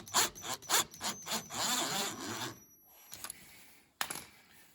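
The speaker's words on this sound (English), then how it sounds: "Just go in with a regular screwdriver, not to strip the threads, and it looks like that'll work fine." A screwdriver turns a screw back into a Honda Accord light switch on the bench, giving close, soft scraping strokes in a rhythmic run, then a few faint clicks.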